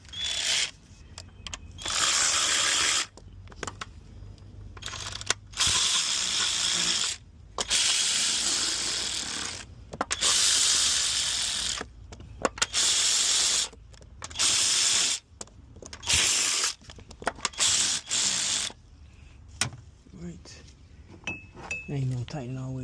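Ratchet clicking in repeated bursts while tightening bolts on the thermostat housing of a 2017 Chevy Camaro during coolant sensor and thermostat replacement, close and fairly loud, with short pauses between runs and a brief voice near the end.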